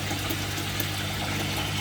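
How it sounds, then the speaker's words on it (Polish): An aquarium water pump in an angelfish-breeding setup runs as a steady low mechanical hum under a broad rushing water wash, continuous and close, with no speech. "Pompa oczywiście się załącza."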